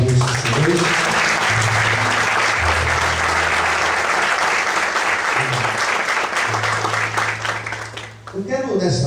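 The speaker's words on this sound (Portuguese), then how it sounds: "Vamos aplaudir a Deus do Senhor." A church congregation claps loudly and steadily during an evening worship service, dense applause continuing for several seconds before tapering off near the end, with a voice speaking over it at times.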